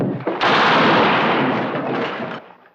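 A single heavy gunshot from a 1970s western film, loud and booming, followed by a long rolling echo that fades out over a couple of seconds.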